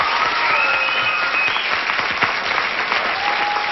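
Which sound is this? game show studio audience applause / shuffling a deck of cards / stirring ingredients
game show studio audience applause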